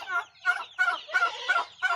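Chicken and turkey sounds from a breeder's flock: a run of six quick, close clucking or gobbling calls in a fast rhythm against a quiet background.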